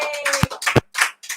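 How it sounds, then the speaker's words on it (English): A few sharp claps ring out, bowling-alley style, in short separate bursts up close with brief gaps between them. No voices accompany them. "That's the bowling alley clap right there"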